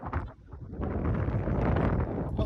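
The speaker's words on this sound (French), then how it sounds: "Il y a du vent partout là" Gusty wind buffeting a microphone on the Drac Himalayan footbridge, a rough low roar that swells and stays loud and close, with no talk.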